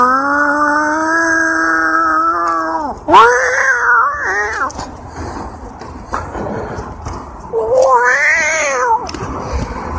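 A cat yowls in long, drawn-out wails, then a few shorter meows, loud and close over faint background rumble.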